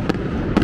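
Fireworks at an E-Da show pop in two sharp bursts about half a second apart over a loud rumbling crowd-and-sky background.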